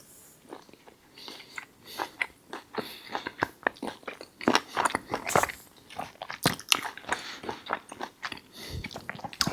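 Close, crunchy biting and chewing of Cajun steak, a steady run of wet chomps and crunches in uneven rhythm, heard alone without talk.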